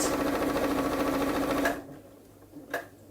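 A sewing machine runs in a steady, loud whirring burst while stitching fabric for drawstring bags, then stops abruptly, leaving a quiet pause broken by a single brief clunk.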